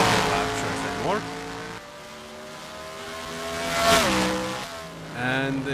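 Race car engines during a qualifying lap in a sim racing video game, loud revving whines rising and dropping through gear shifts and passes, heard close and continuous.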